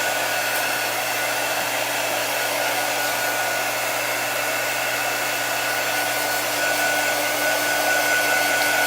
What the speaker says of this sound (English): I'm going to warm it up a little bit with my quick dry tool here.